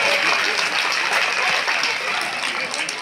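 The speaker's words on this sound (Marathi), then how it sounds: "जरा हात वर करून टाळ्या झाल्या पाहिजेत" Women at a village game event for mothers and grandmothers applaud together in a sustained burst of dense clapping. It is fairly loud and close, with faint chuckles mixed in.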